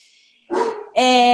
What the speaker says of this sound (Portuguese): gente, o cachorro.